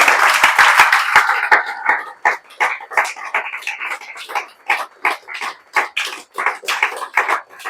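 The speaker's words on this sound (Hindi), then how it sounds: "ताली बजाते जाइए भाई आप लोग।" An audience at a student felicitation event applauds, starting with a dense burst of clapping that settles into a looser, uneven pattern of handclaps rising and falling in bursts, fairly close and loud.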